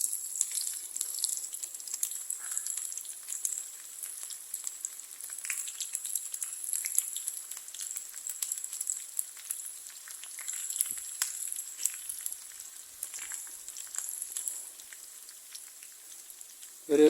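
Small shallots dropped into hot oil for a green plantain moru curry, giving a steady, fine crackling sizzle that runs without a break at moderate volume, with no talking.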